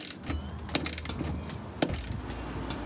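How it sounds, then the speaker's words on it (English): Power drill backing out 10 millimeter screws from a G35 Coupe trunk lid, short mechanical whirring bursts with ratcheting clicks, close and moderately loud, no talking. "drill this thing out. And reverse."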